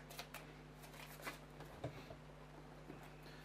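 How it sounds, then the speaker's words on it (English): Event deck cards from the Robinson Crusoe: Voyage of the Beagle board game are shuffled, giving soft, faint papery riffles and light taps at close range with no talking. "It's getting harder and harder to shuffle these."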